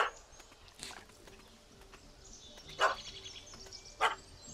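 A puppy barking at a cat up a tree in The Witcher 3: a few sharp, fairly faint barks spaced apart, the last two the loudest, over quiet ambient background.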